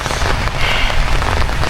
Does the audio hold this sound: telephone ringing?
no